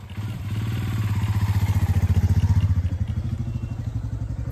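Motorbike engine running close by as it is ridden off, a steady throbbing low rumble with rapid pulsing that holds loud throughout and eases slightly near the end.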